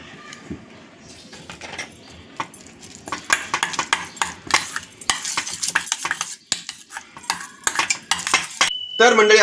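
Egg mayonnaise sandwich filling being mixed in a bowl with a spoon: quiet at first, then brisk repeated scraping and tapping of metal cutlery against the dish, close up, with a brief tonal sound near the end.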